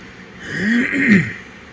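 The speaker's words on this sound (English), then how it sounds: "I don't know why I have to keep clearing my throat" A single throat clearing, close and fairly loud, with a rough, gravelly rasp rising and falling over about a second, no talking.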